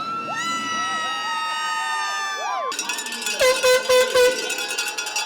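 Hockey fans cheer in an arena packed to capacity, with loud crowd noise, a sustained horn blast and then rhythmic shouts and claps rising over the din.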